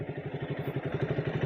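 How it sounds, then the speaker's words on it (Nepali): A KTM Duke motorcycle engine idling close by, a steady rapid low thumping pulse at an even rhythm, moderately loud and alone. "बाइकको आवाज त सुन्नु हुँदै होला नि"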